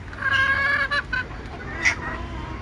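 Penned native desi chickens on a Bangladeshi farm give a few close, tonal clucks and calls in the first second, with a brief higher squawk later over a quiet room hum.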